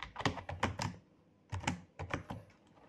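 A Linux terminal command typed on a keyboard, two short bursts of crisp, close key clicks separated by a pause, ending with single firm keystrokes, no voices.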